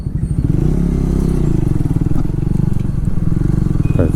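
A Triumph Tracker 400 motorcycle rumbles steadily on the road, its engine loud and close with a constant throbbing drone and a slight rise in revs near the end, heard from the rider's position.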